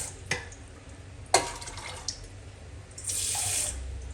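Water splashes into a cooking pot of soaked peas for ghugni, a few brief pours and drips building to a steady, close trickle near the end, with no talking.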